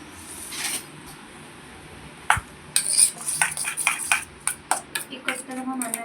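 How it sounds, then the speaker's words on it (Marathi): A spoon clinks and scrapes against a pan while crumbled chapati pieces are mixed together, giving a series of sharp taps and scrapes, sparse at first and then quicker and more frequent, close to the microphone. "तर मी आता एकजीव करून घेते चमच्याने."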